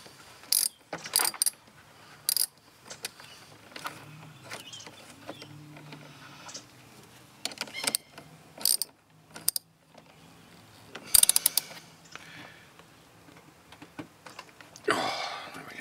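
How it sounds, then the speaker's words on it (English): A terminal on an 80 Series start relay being tightened back down with a hand tool, giving irregular ratcheting clicks and metallic taps in short clusters over quiet background. "I'm just going to tighten the terminal back down"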